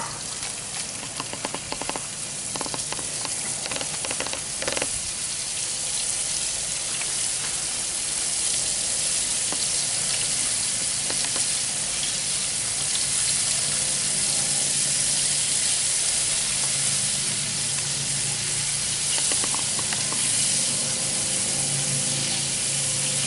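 Squirrel frying in bacon grease on low heat, a steady, even hiss and sizzle with a few light pops early on, continuous throughout and without talk.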